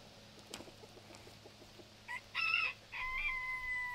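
On a farm on a windy day, chickens cluck softly and a rooster crows, short squawks giving way to a high, drawn-out crow near the end over a low background rumble.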